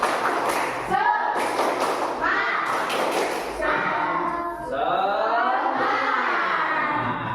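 A classroom of students does a rhythmic clapping ice-breaker, sharp bursts of claps and thumps in quick patterned groups, followed by the group chanting together in a loud, echoing room.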